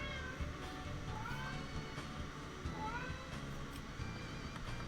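A pet cat meows repeatedly with rising, chatty calls, fairly faint against a busy background of steady noise and a person talking nearby.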